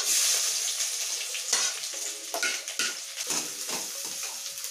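Sliced onions drop into hot oil already holding whole spices such as cinnamon, cloves and stone flower. The oil hisses and sizzles steadily up close, broken by clinks and stirring scrapes of a spoon against the pan.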